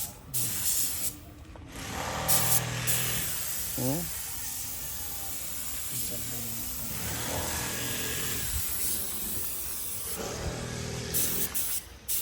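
Spray painting a swimming pool, with long steady hissing bursts from a sprayer running close and loud, pausing briefly between passes; a short murmured vocal sound occurs once.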